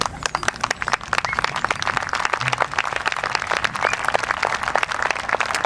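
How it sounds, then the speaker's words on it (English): An audience at a military band concert applauds with loud, dense, sustained clapping, sharp individual claps standing out close by against a continuous wash of hands. "the louder you clap, the better I sound. So clap a lot"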